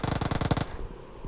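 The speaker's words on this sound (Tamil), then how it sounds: "சில டைம் ஹெல்மெட்ல 4-5 புல்லட் அடி வாங்குற மாதிரி சத்தம் கேக்குது" In a shooting video game, a quick string of about a dozen rapid gunshot impacts striking a helmet, loud and close, cutting off abruptly into quiet.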